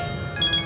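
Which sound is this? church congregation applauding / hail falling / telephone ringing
telephone ringing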